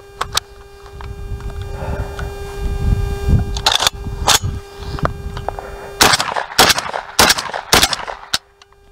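A JTS MK12 shotgun fires on gas setting one, loud separate booming shots spaced a second or so apart over a steady background hum, outdoors at close range.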